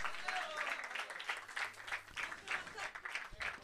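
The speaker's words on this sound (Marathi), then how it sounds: "जोरदार टाळ्या." Audience applause at a cricket tournament prize ceremony, honouring the best batter, rolls on steadily for several seconds with dense, even clapping and no break.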